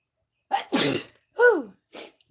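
One loud, close sneeze with a sharp intake and burst, followed by a couple of short voiced sounds afterward.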